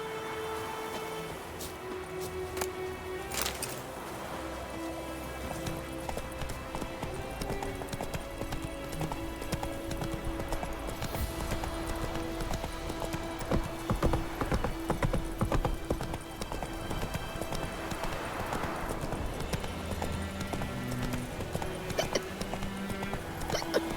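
Roach the horse gallops in The Witcher 3, with steady rhythmic hoofbeats on the ground that carry on for the whole stretch, joined by a few sharper thuds and a light rain-like hiss.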